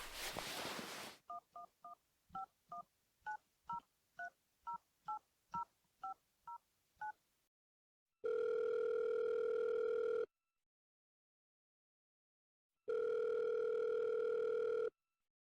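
A phone dials a number with a quick run of about a dozen touch-tone beeps after a rustle, then two long unanswered ring tones separated by silence, clean and close in an audio drama.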